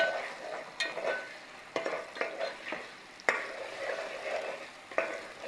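Chopped onion and tomato sizzling in a pan for masala bhindi, a steady fry with repeated scraping stirs and occasional spoon knocks against the pan, close and moderately loud.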